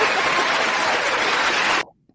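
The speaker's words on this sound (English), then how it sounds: "I'm going to bring out the crowd for this one" A studio audience claps and cheers steadily as they are let in, a dense, loud wash of applause that cuts off abruptly near the end.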